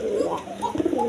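Pigeons of various breeds at a wholesale pigeon market, cooing in overlapping low, throaty phrases close by, with the burbling calls rising and falling continuously through the short stretch.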